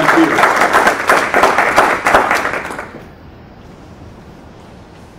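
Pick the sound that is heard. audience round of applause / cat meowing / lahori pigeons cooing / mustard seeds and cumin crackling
audience round of applause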